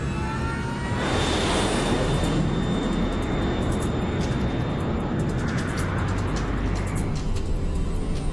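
A LAM Mozambique Airlines airliner roars down the runway on takeoff at Maputo, a loud, steady broadband engine rush with a rising whine that builds after the first second and holds without a break.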